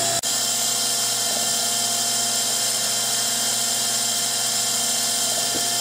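An engraving machine cuts characters into a small 15mm triangle pendant, lubricated with WD-40, giving a loud, steady high-pitched whine that continues without a break, apart from a brief dip at the start.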